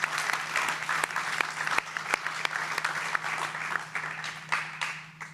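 Steady applause from an audience at an alumni association general assembly, moderate clapping with distinct sharp claps over a low constant hum, continuing evenly throughout.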